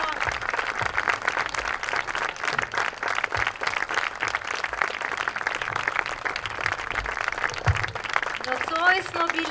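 A concert audience claps for two conductors, a sustained round of applause at moderate level, with a voice speaking over it near the end.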